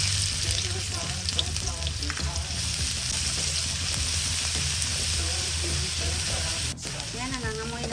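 Chopped onions sizzle and fry steadily in a hot pan, a continuous close crackle with occasional stirring scrapes, while a person talks over the cooking.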